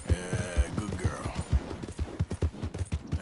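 Horse hooves clip-clop in a steady, even trotting rhythm in the video game Red Dead Redemption 2, close and clear, with faint vocal sounds early on.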